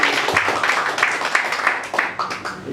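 A church congregation claps during a Sunday worship service, a steady patter of hands with a few sharper bursts, fairly close and full, with some voices mixed in.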